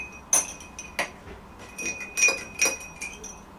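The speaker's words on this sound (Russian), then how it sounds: "Опускаем ложку в чистый стакан." A metal spoon dipped into a clean drinking glass gives a series of bright, ringing clinks, several light taps spaced across a few seconds in a quiet room.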